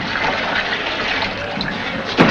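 Water pours into a pail in a steady, splashing rush that continues throughout, ending with a brief louder splash.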